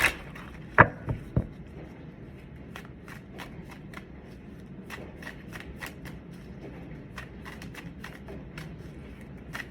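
Aquarian Tarot deck being shuffled by hand, a few sharp card slaps at the start followed by a long run of light, quick riffling flicks at close range, with no talk.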